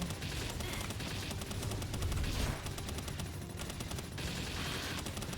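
Rapid, continuous Gatling gun fire in the video game Palworld, a dense unbroken stream of loud automatic shots lasting throughout with brief dips in intensity.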